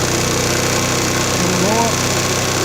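A GY6 139QMB four-stroke scooter engine running steadily during carburettor tuning, a constant close buzzing drone with a slight rise in revs, while someone talks over it.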